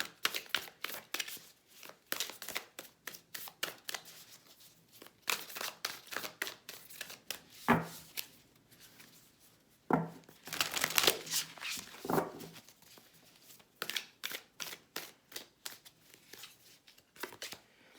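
Tarot cards handled and shuffled for a monthly reading, close papery riffles and soft slaps coming in uneven bursts with brief pauses, quiet and without speech.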